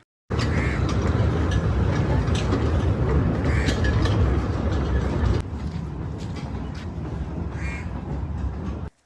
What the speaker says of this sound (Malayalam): ഇതിലെ ട്രെയിൻ പോകുന്നുണ്ടായിരുന്നു